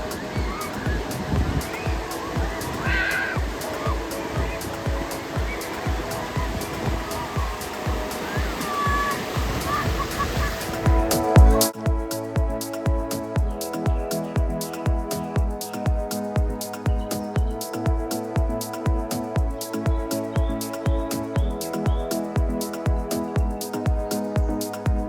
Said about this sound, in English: this pool generates the biggest waves of them all